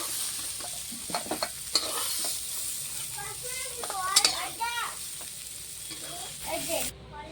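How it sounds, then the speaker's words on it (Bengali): Cauliflower florets fry in a pan with a steady sizzle, stirred with several scraping clicks, while a voice speaks intermittently over the cooking. "আমার ফুলকপিটা ভাজা হয়ে গেছে, এখন নামিয়ে নেব।"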